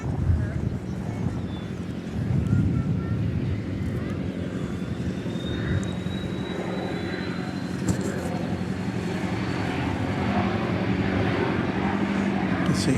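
Cessna Citation CJ3 (525B) business jet taking off at DFW Airport, a distant, steady jet roar with a faint rising whine, heard through wind noise while people talk nearby.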